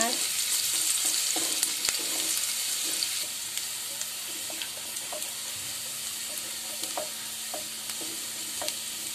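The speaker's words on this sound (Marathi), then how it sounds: "हा कांदा मी फोडणीला टाकलाय" Onion for tempering a Malvani chicken curry sizzles and crackles steadily in hot oil, a continuous frying hiss with small pops throughout.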